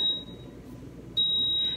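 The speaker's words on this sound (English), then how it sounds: "And the buzzer just ended the question." A high-pitched electronic buzzer tone sounds briefly, stops, then sounds again, steady and piercing, over faint background noise.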